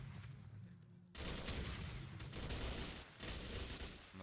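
Rapid automatic gunfire rattles in the video game S.T.A.L.K.E.R.: Clear Sky as zombies are shot, loud dense bursts starting after a quieter moment and continuing with brief pauses.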